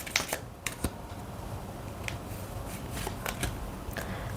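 Tarot cards being drawn and handled from a deck, a few crisp card snaps and slides near the start and scattered light taps later over a steady background hiss.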